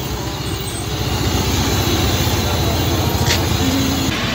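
Steady low rumble and drone of a bus heard from inside while it drives along, a continuous engine and road noise with a brief faint whistle-like tone near the end.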